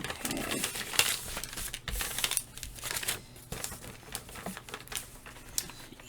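Paper being folded by hand, giving soft close crinkles and scraping creases in uneven bursts at low volume with no talking.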